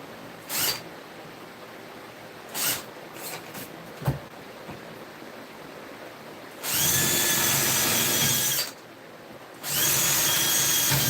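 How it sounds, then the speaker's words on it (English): A power drill bores into wood through a homemade template: a few short trigger bursts, then two long, loud, sustained runs of whirring drilling up close. "not many people are just going to be doing this with a drill and a template like I made"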